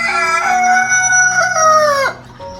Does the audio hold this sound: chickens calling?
yes